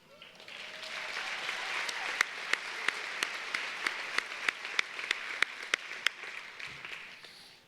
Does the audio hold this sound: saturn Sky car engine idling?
no